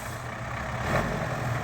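A GAZ truck with a freshly rebuilt engine runs steadily during harvest, a continuous low engine rumble with a broad mid-range roar, fairly close and even, with no talk.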